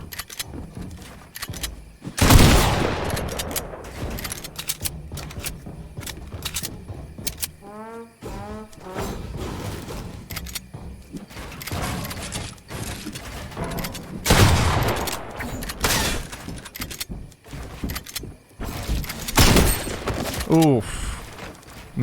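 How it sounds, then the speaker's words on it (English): Assault rifle fire in a Fortnite battle royale match comes in dense, cracking bursts mixed with impacts and other game effects. A player talks over much of the action. "This guy just unloaded his entire AR."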